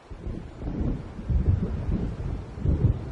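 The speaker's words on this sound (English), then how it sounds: "It seems there's a storm coming." Rolling thunder from an approaching storm in the video game Alan Wake, low and rumbling in several swelling waves with wind and a hint of rain, heard alone without voices.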